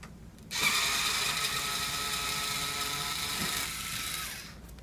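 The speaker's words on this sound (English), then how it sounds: "Now we're going to remove the back panel of the safe door by undoing the screws." Screws being undone around the perimeter of a safe door's back panel, most likely with a power driver: a near, continuous whirring mechanical buzz that lasts about three seconds, then fades out, with no talking.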